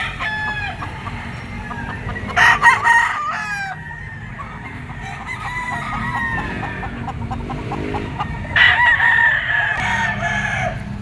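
Yellow-legged stag roosters crow at a poultry market in Padre Garcia, Batangas, with several loud, drawn-out calls overlapping and clucking in between, close by against a noisy market background.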